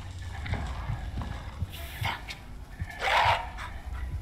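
Dogs bark in a tense stretch of The Outlast Trials horror game, sharp yelps and a few woofs scattered across a noisy mix with footsteps and other game sounds.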